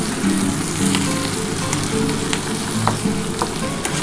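Potatoes, bitter gourd and pointed gourd fry with fish fat in a pan, giving a loud, steady close sizzle broken by scattered crackles and the scrape of stirring, with no voices.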